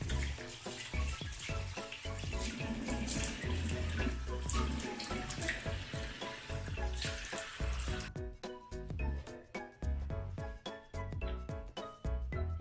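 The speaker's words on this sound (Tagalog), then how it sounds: "you're just going to wash it with water" Water runs from a tap into a sink while a face is rinsed during a skincare routine, a steady splashing flow with intermittent splashes, close and without talk.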